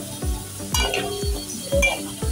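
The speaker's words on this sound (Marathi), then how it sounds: "गॅसला स्लो ठेवा, लसूण करपायला नको। हे बघा छान परतवून घेतोय।" Garlic sautéing over low heat in a pan for veg fried rice: a soft sizzle with four rhythmic stirring scrapes and light clinks of a utensil against the pan, close by.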